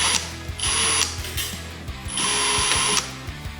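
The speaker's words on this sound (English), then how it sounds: "I had to use the old wires and the hand drill method to get them twisted nicely." A hand drill twisting old wires for tube heater connections cranks with a ratcheting, clicking whir in bursts, close up, alternating between louder spinning passages and brief pauses.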